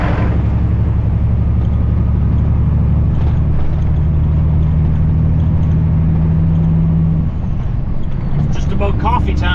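A truck rolling down a highway on a long drive south in Ontario, its engine and road noise a loud, constant close drone from inside the cab, with a steady low hum throughout.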